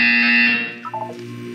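A loud electronic buzzer tone from the Portal video game sounds alone, holding steady before trailing off into a short descending chime-like sequence.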